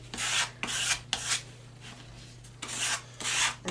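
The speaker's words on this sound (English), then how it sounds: "One cool thing you can do is you can scrape over the chalk like that" A tool scrapes across dry, powdery chalk on paper in five or six separate rasping strokes, close and fairly loud, each a short burst of about half a second with brief pauses between.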